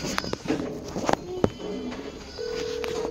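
A Telegram call rings out from a phone, a steady electronic tone settling in after a few taps and handling knocks nearby.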